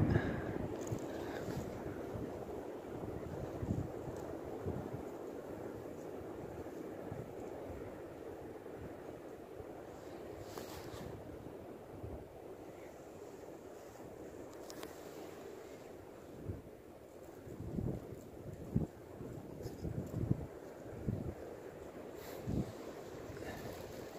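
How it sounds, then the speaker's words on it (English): Cold wind gusting through the Catskill Mountains of upstate New York, a steady whooshing rush with buffeting on the microphone and occasional low thumps, no voices. "That wind"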